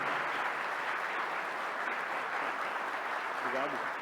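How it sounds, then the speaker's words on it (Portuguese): An audience at an engineering panel debate claps for an inventor, with continuous, fairly distant applause and a brief voice near the end. "gostaria de passar um mimo ao nosso amigo, com uma salva de palmas"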